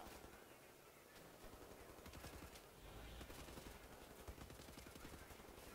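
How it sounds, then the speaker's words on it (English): Gunfire in the shooter game Wolfenstein comes as rapid, dense bursts of shots and automatic fire that run almost the whole time. The shots are constant but quiet overall, with a possible faint voice under them. "I hear a lot of gunshots."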